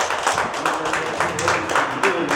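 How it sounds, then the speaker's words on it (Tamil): Crowd clapping loudly at a community gathering honouring a teacher, a dense continuous patter of many hands, with a voice talking over it. "பலத்த கரகோஷம் எழுப்புங்கள்"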